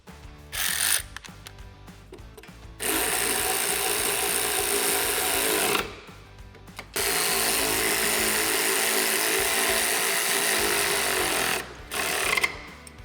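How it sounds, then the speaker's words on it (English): Ratchet tightening bumper bolts on a Polaris RZR XP during a front bumper install: long, steady stretches of fast clicking, broken by short pauses, close and moderately loud with no talking. "we'll go ahead and fully tighten those bolts"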